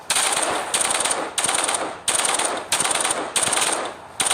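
Vandal rifle fire in the shooter Hyper Front: six short, loud full-auto bursts with brief pauses between them, crisp and close, no voices.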